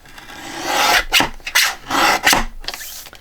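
A paper trimmer slices paper for a junk journal in several short rasping strokes, each a close, dry scrape with brief pauses between them.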